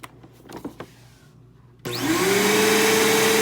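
A Bissell CleanView upright vacuum cleaner, running a Helix motor, switches on after a stretch of quiet handling clicks and thumps, then roars loud and steady with a rising motor whine close by.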